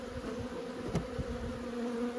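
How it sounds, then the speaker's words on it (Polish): Honeybees swarm over the top board of a hive during an early spring apiary inspection in February, giving a steady buzzing drone throughout with a couple of brief louder knocks near the middle. "ile pszczół na powałce jest"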